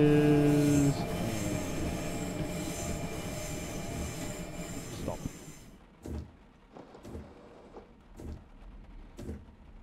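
A passenger train in the Train Simulator 2018 game on the Mittenwald shuttle rumbles loudly while braking with a squeal, then settles into quiet with a few faint clunks and someone talking.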